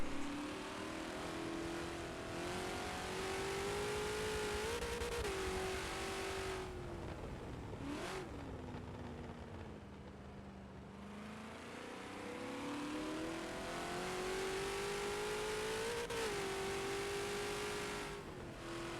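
Race cars in a Forza racing game at Sebring International Raceway roar continuously, close and loud, the engine pitch climbing through gears, sagging on a slow section, then building again with brief bursts of another car nearby.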